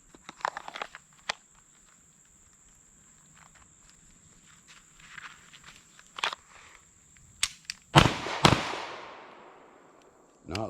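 A pistol fires bad ammunition with faulty primers: a few sharp, scattered shots and clicks at a range, then a louder, ringing shot near the end, with quiet handling noises between.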